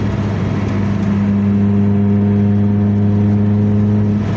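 A car engine drones steadily up close, a deep, even hum with a whirring edge that holds at the same loudness throughout.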